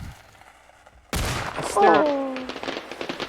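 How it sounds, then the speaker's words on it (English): Fireworks are thrown in a video game and burst with a sudden loud crackling blast, followed by rising whistling tones and scattered popping that fades over a few seconds. "Ooh, Fireworks. I do enjoy some fireworks"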